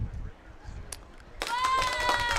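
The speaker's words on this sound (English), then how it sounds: "Round of applause to the Carolina Panthers defense" An applause sound effect cuts in abruptly partway through. Full crowd clapping mixed with cheering voices plays loud and sustained to the end, after a quieter stretch with faint talk.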